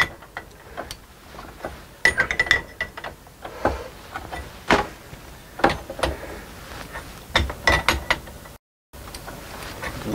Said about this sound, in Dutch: je kan hem horizontaal houden en dan kan je dus de koppeling aandraaien terwijl je het filter vasthoudt